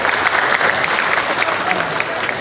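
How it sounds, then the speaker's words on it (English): Crowd applause rings out at the Ontario Summer Show Holstein cattle competition, a continuous loud wash of many clapping hands that fills the entire short stretch. "I think another round of applause is in order for this group of cows"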